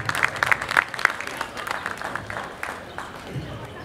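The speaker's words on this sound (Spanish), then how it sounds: "Un aplauso, creo, para Enrique Braske" Applause for a poet at a literary tribute in a book fair setting, a burst of clapping with a few sharp close claps early on, tapering into softer scattered clapping and faint crowd murmur.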